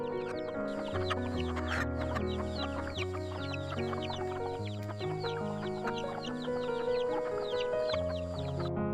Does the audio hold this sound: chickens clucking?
yes